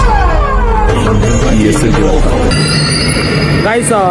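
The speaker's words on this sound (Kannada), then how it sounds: "ಮೆಟ್ರೋ ಬಂತು" A metro train pulls into a station near Jayanagar with a heavy rumble, metallic wheel squeal and a rising hiss near the end, while voices murmur in the background.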